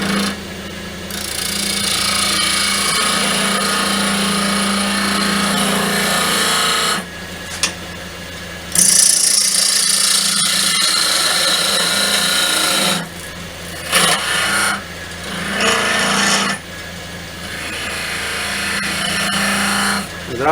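Wood lathe turning a knotty log with branches for an off-centre goblet, a steady loud whirring and scraping that cuts out several times in brief pauses, then resumes; faint speech occasionally underneath.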